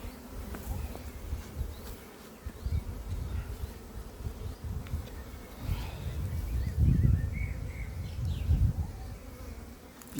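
Honeybees buzzing around an open beehive during a frame-by-frame inspection, a dense continuous drone close by that swells and fades, with occasional louder passes near the microphone and light handling noises.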